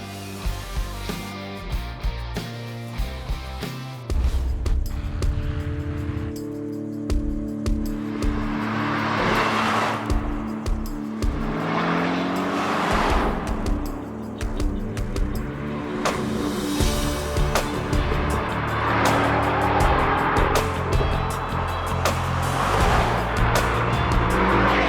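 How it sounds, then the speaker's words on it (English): A freshly finished custom car is taken out on a test drive, its engine revving and rising through repeated loud accelerations with swells of road and tire noise, running steadily with no voices. "Got this car finished up and took it out for a test drive."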